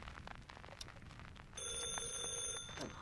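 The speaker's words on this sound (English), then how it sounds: "it's just an alarm" A phone alarm starts partway through, a steady electronic ringing tone that rises over quiet room noise and holds at a moderate level.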